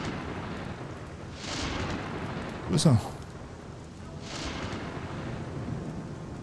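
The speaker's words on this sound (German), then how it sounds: "Oh, perfekt, noch Gewitter." Thunderstorm in the Gothic 2 mod, a low rumbling roll of thunder with a sharp crack in the middle over steady rain-like hiss, while someone speaks briefly.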